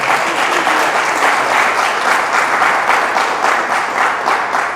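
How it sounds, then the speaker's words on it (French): Sustained audience applause at a lecture on African memory and heritage, loud and dense with steady clapping throughout and no voices over it. "je vous demande d'applaudir son nom encore"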